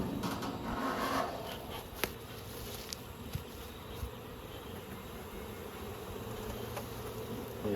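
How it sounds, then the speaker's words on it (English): Honey bees buzz around a hive box in a warm Australian apiary, a continuous close, droning hum with a few faint knocks and taps from handling the box. "I don't want these bees to overheat in the box"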